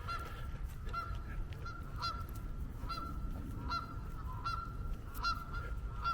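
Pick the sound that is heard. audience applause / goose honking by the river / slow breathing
goose honking by the river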